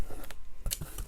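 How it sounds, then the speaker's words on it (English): Scissors or a blade cutting open a Stampin' Up! craft supply package, heard as a few short, sharp snips and crinkles up close, with brief pauses between the cuts. "I'm going to cut that"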